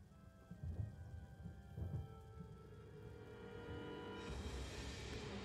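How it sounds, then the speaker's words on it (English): Steady rain from the video game Lollipop Chainsaw, a constant wash of falling water that swells louder near the end, with low rumbling thumps like distant thunder underneath. "Is that rain?"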